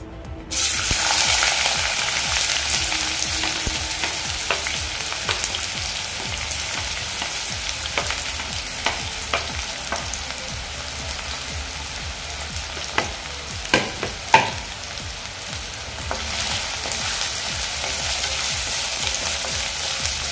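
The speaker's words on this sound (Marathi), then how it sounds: "इथे आपलं तेल गरम झालेलं आहे। आता यामध्ये मी कांदा घालून घेते पहिल्यांदा।" Onion frying in hot oil over a high flame, a steady loud sizzle right from the moment it hits the pan, with occasional stirring scrapes and clicks, close and continuous with no speech.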